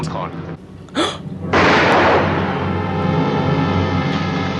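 A single sharp gunshot bursts from the 1942 film Casablanca, followed by a loud, sustained wash of film sound with a steady hum beneath.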